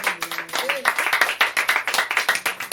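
A church congregation claps in rapid, steady rhythm during worship acclaiming the Lord, the dense clapping carrying across the whole moment with voices mixed in underneath.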